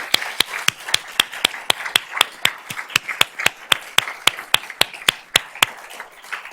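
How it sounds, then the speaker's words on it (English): Claps of applause for a prize winner at a school board of trustees meeting, heard as sharp, evenly spaced hand claps in a quick steady rhythm, close and distinct, with no voices. "Let's give him a round of applause."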